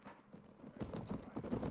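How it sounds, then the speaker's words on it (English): Horses gallop in a Mount and Blade Vikingr mod battle, a faint, rapid drumming of hooves that grows slightly louder over under two seconds. "Oh, horses"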